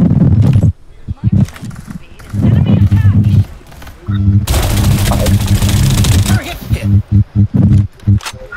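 Shotgun fire in a video game lands as repeated loud blasts, with a dense burst of gunfire in the middle, under and between lively talk from players.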